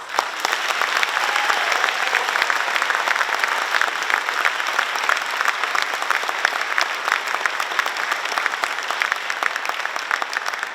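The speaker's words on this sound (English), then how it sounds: "How about an extra round of applause for Evan?" Sustained audience applause fills a school awards night hall, dense and steady for the full stretch with no talk over it.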